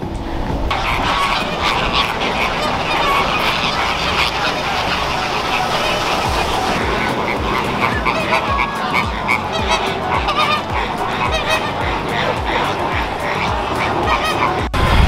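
Red ducks honk loudly in San Diego, a dense, continuous chorus of nearby calls that overlap and never pause.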